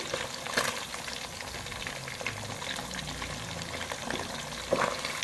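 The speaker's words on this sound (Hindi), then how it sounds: "फिश को फ्राई होते हुए 2 से 3 मिनट हो चुके हैं।" Fish fries in oil in a pan for a spicy masala fish fry, a dense crackling sizzle that holds steady and close. A couple of louder pops or bumps stand out above it.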